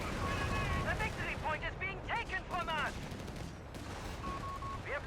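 Gunfire from the real-time strategy game Company of Heroes 3 rattles in bursts during a tank battle, mixed with whistling and sweeping battle effects, moderately loud against a dense wash of combat noise.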